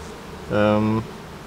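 Honeybees at an open, full hive, a short burst of droning buzz that swells close and loud for about half a second, then drops back to a quiet background.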